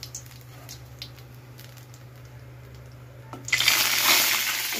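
Hot oil in a frying pan, tempered with black cumin and dried chillies, suddenly erupts into loud, hissing spatter after water on the spatula hits it, following a quieter stretch of faint sizzling and small clicks nearby.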